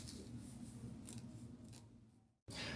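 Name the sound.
scissors cutting fabric for a pencil skirt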